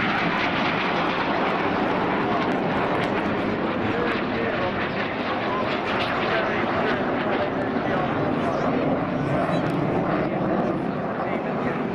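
RAF Red Arrows jets fly the vortex manoeuvre at an air show in Portrush, producing a loud, continuous roar of jet engines that fills the whole stretch, with a commentator speaking over it.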